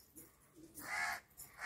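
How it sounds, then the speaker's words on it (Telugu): Several crows caw from a house roof in a village at morning, harsh calls arriving in bursts of two or three, fairly near and loud with short gaps between them. "మా ఇంటి మీద కాకులు అడిచినాయి ఈరోజు లేచిన నుంచి"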